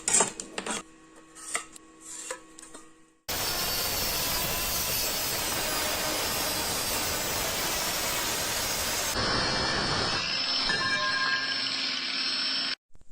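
An angle grinder cutting a 20 cm piece from 45x45 steel angle, a loud continuous abrasive screech lasting several seconds that changes pitch near the end, preceded by metallic clinks of handling.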